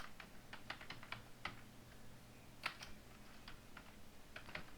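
Typing on a computer keyboard, with quick clusters of light key clicks separated by short pauses, close up and alone without talk.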